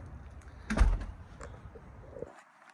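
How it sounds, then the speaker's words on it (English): A door in a 3-bed condo is pushed shut with a soft thud and faint rattle, followed by quiet room tone that cuts off abruptly near the end. "Just close that door."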